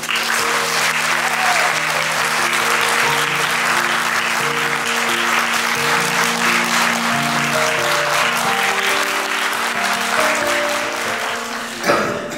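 Loud, sustained applause from guests at a Catholic wedding ceremony at Ośrodek Turystyczny Warzenko, filling the whole stretch, with steady held musical tones underneath before it fades at the end.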